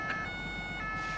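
A gendarmerie siren wails steadily in the foreground, a continuous electronic tone with game-like engine rumble underneath, in Euro Truck Simulator 2.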